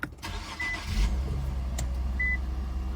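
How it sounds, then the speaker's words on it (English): A 2014 Jeep Compass with a rebuild title cranks and starts, settling into a steady low idle that runs close and continuous, with a couple of short electronic dash beeps over the engine. "sorry, start the car."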